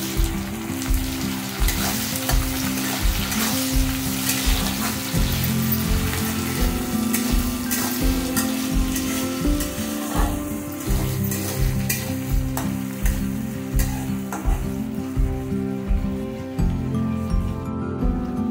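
Tomatoes with salt sizzle steadily in a hot pan for a pomfret fish curry, with a continuous close frying hiss, while a spoon scrapes and stirs in a regular rhythm throughout.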